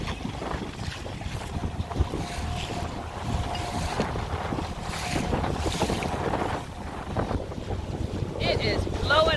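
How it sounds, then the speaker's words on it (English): Strong wind blows across the open outdoors, a steady close roar of buffeting gusts against the microphone lasting throughout, with faint water and surf sounds beneath it. "It is blowing a hoolie out here."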